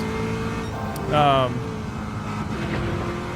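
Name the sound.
Garage 56 race car engine on Le Mans straight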